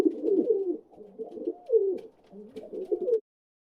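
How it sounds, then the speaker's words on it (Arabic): A pigeon coos in low, soft, rolling phrases repeated several times, close and alone, with short pauses between the calls. "حمامة."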